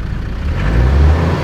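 Car engine rises in a sustained rev as the driver accelerates on a desert road, with a possible alternator fault, a steady low rumble swelling and holding at moderate loudness, no talk over it.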